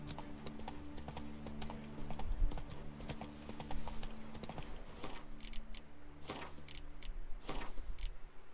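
Roach, a horse in the video game Witcher 3, gallops with a steady, rapid clip-clop of hooves, loud and close, over a low rumble of game music, with a few sharper hoofbeats near the end.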